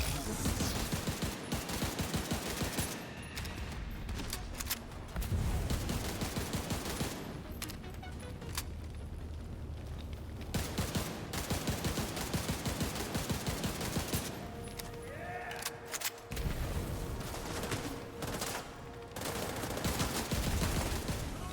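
Gunfire in the video game The Division 2 on hardcore solo mode: loud, dense bursts of automatic fire and rapid shots repeat almost without pause, with a few brief lulls between volleys.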